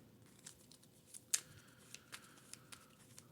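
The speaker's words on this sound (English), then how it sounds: "All right, so we're going to shuffle these back in." Marvel Champions card game cards being shuffled back into a deck, soft close riffling and flicking with small sharp snaps in a quiet room, no talking.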